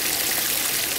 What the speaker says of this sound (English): The waterfall with the new design comes off of a stone with a curtain effect of cascade and then comes down into a small secondary and makes a turn right into the pond